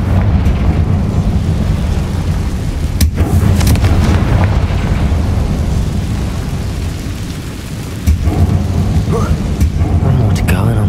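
A booming Confringo spell blast in Hogwarts Legacy, loud rumbling explosions mixed into a dense game soundscape, with a voice speaking over it.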